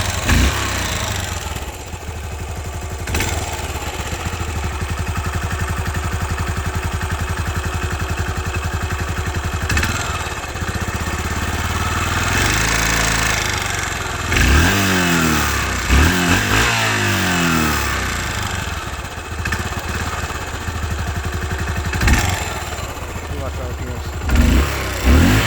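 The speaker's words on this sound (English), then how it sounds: "I really don't like revving my bike like that." A single-cylinder motorcycle engine idles steadily nearby, then revs up in several sharp bursts before settling back to a loping idle.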